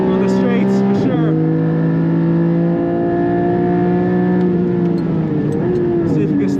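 A Porsche 718 GT4 RS races down a track straight, its engine a loud, steady high-revving drone whose pitch climbs and shifts through gear changes.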